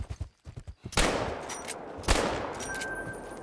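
A shotgun fires in theHunter: Call of the Wild during a buffalo hunt: two loud, sharp blasts about a second apart, each with a long ringing tail, after some soft footsteps.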